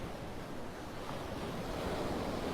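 Storm-driven ocean waves crash and wash onto an eroding beach in a steady, loud roar, with wind buffeting the microphone throughout.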